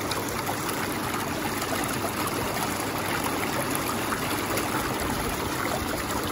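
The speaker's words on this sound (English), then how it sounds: "I'm going to turn the jets on full blast." Hot tub jets run at full blast, a loud, steady rush of churning, bubbling water that continues evenly throughout with no voices.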